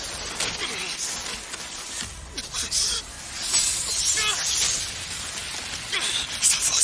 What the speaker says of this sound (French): Il a explosé ce pilier d'un seul coup d'épée.